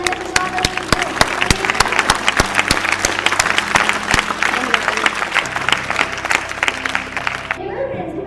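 An audience at a Teachers' Day school function welcomes a performer to the stage with loud, sustained applause, sharp individual claps crackling over the crowd noise before fading near the end, with talk beneath it.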